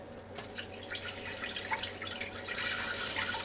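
Water, about one and a half cups, pours into the pot of a Ninja Foodi Deluxe, a soft quiet splashing and trickling that builds slightly as it fills.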